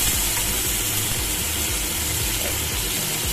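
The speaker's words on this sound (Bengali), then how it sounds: "এবার সেই তেলের মধ্যে আমি সাদা জিরে আর তেজপাতা ফোড়ন দিয়েছি" White cumin seeds and bay leaf sputter in hot oil as a tempering, a dense, loud, continuous sizzle with faint crackles and low knocks underneath.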